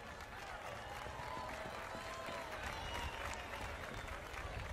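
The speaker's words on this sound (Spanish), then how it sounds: "Con el aplauso de ustedes fuerte ahí, para animarlo al hombre." Festival crowd in Argentina applauds to welcome a folk group's percussionist, a faint, distant, continuous wash of clapping and crowd noise lasting the whole stretch.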